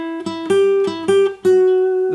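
A guitar plays a short lick from a song's solo, with a few picked and slid notes sustaining into one long ringing tone, close and clear.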